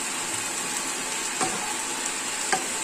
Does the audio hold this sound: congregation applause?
no